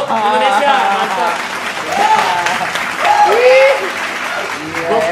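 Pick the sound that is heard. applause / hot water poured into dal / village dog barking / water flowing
applause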